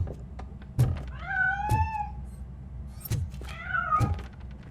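Cat meowing in the video game RoboCop: Rogue City, two clear drawn-out meows with soft thumps and footsteps between them, fairly close and alone without talk.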